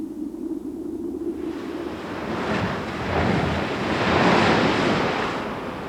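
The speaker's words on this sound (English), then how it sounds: "The action of waves can wash away areas of coastline" Ocean waves washing onto a coastline, a steady roar of surf that swells louder over a few seconds with a windy, rushing edge and no voices.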